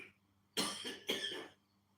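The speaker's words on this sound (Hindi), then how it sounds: "ये स्वाभाविक है कि खांसी आ सकती है, जो हम थोड़ा हल्का सा प्रेशर लगा के ब्रीदिंग करते हैं।" Two harsh coughs close together from one person during a yoga breathing exercise, loud and near against a quiet room.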